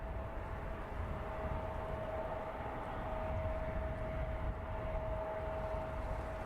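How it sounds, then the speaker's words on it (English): An Alaska Airlines Boeing 737-800 arriving from Santa Ana at San Francisco Airport gives a steady, continuous jet rumble with a thin sustained whine, holding level throughout with no talk. "Our next arrival is going to be Alaska Airlines. It's a Boeing 737-800"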